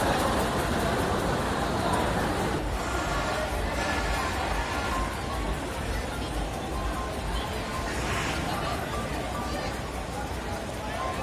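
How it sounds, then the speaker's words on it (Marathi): Crowded Kurla bus depot during the Christmas holiday rush, a dense continuous wash of crowd babble and road traffic with engines idling and moving nearby, steady and loud throughout. "एकदम गजबजले पूर्ण कुर्ला डेपो."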